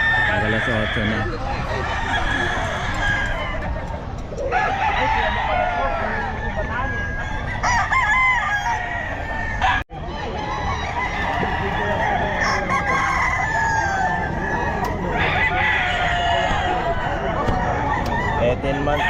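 A long stretch of overlapping rooster crows and hen clucking at the Bocaue pet market, loud and continuous, with people talking in the background and a brief sharp bump midway.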